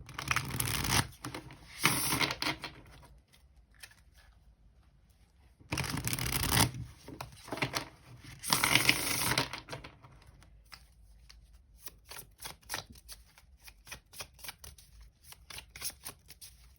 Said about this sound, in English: these cards shuffle quite well